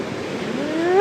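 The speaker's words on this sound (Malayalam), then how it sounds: "വലിയ തിരമാല കേട്ടോ വരുന്നത്." Big sea waves surge toward a beach at Pondicherry, a brief close rush of surf that swells louder toward the end, with no voices.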